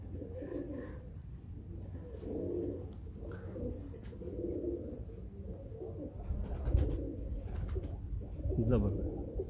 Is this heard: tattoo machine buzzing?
no